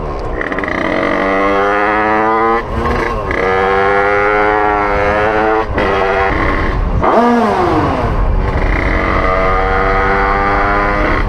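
A moped fitted with an Italkit 88 cylinder revs close by, its engine rising and falling in pitch through several blips with short drops between, loud and alone.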